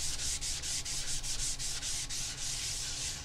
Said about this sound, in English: get yourself a sanding stick around 150 grade, should be enough, and just run it across the whole surface